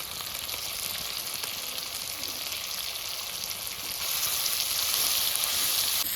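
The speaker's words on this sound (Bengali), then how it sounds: "সব মশলাটা আমার ভাজা হয়ে গেছে" Spices with tomato and Kashmiri chili powder frying in a pan, a continuous soft sizzle and bubbling hiss that grows slightly louder toward the end.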